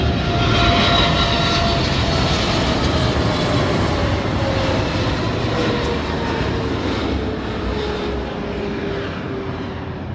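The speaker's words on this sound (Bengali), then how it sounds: "এখানে শুধু প্লেনের শব্দই শোনা যায় এবং প্লেনে দেখা যায়" An airplane passing low overhead as it comes in to land at about 230 km/h, a loud, continuous engine roar that holds steady and eases slightly toward the end.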